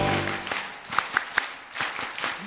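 Hands clap in a church congregation during a worship song, a few sharp claps near the middle, over soft music.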